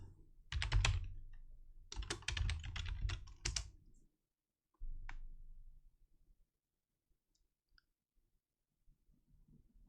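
Quick bursts of keystrokes on a computer keyboard as a command is typed, close and clear, with two clusters of clicking separated by pauses, a short final burst, then near silence.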